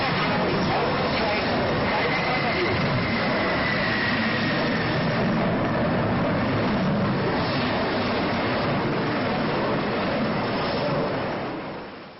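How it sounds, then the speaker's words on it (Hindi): Eleven fighter jets including Rafale, Sukhoi-30 and Tejas roaring during an air force exercise at Jodhpur airbase near the Pakistan border, a continuous loud jet rumble that fades at the end, with faint background voices. "इन 11 लड़ाकू विमानों की आवाजें उसकी सीमा के पास गूंजती"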